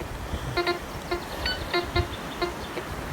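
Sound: metal detector signal beeping

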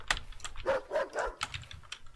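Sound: dog barking in video game Thousand Threads

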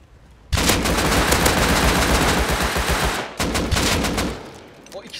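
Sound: AK rifle spray gunfire in video game Rust

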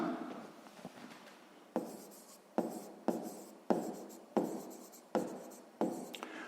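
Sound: writing by hand

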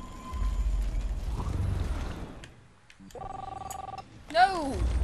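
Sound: telephone ringing in the video game Life Is Strange

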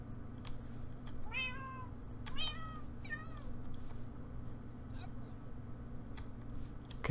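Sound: cats meowing in Minecraft Pixelmon, video game

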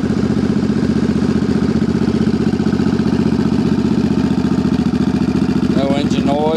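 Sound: motorcycle engine idling

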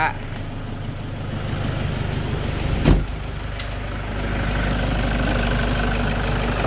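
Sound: car engine idling, quiet smooth sound

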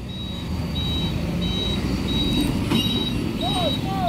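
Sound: palm oil tanker truck reversing with beeps

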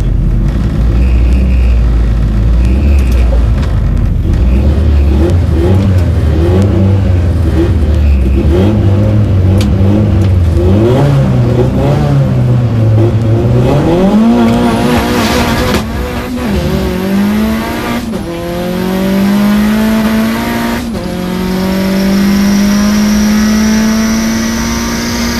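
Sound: drag racing car accelerating with boost

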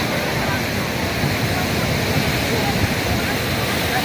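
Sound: Sahastrakund waterfall roaring

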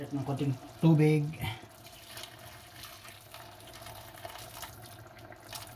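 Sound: water added to cooking pot of pakbet

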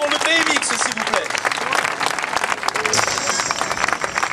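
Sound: crowd applauding the senator-mayor at BMX championship

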